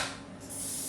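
A brief hiss of greasing spray coats a cake mold for a savoury ham, olive and cheese cake, one close, short burst that swells toward its end.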